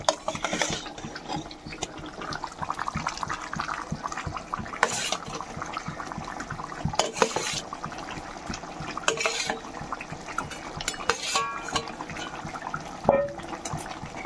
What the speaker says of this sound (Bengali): এখন আস্তে আস্তে করে মাছগুলো দিয়ে দেবো